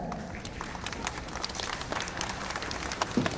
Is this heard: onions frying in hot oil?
no